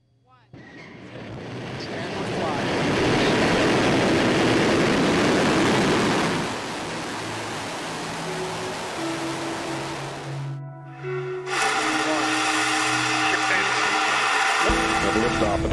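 Several SpaceX Falcon 9 rocket launches are strung together. A deep, rushing roar swells to full strength, then gives way to shorter cuts with humming tones and more roar, ending abruptly.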